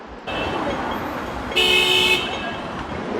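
A Hong Kong Peak Tram sounds a short, bright horn toot in the middle of steady outdoor street ambience and traffic hum.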